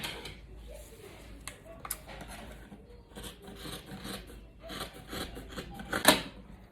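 Scissors cutting through Ankara fabric, with a series of soft rasping snips and rubbing at an uneven rhythm and a sharper crunch near the end.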